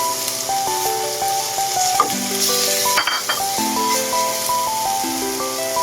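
Chili peppers go into a simmering pot of crab sinigang with tomatoes, giving a steady stirring and sizzling clatter with pot-and-spoon knocks, while a tonal background melody plays throughout.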